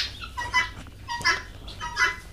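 Guinea fowl on a farm give repeated harsh, rhythmic calls in bursts, fairly close and loud, with short gaps between the cries.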